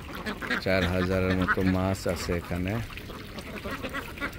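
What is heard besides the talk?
ducks quacking at a fish farm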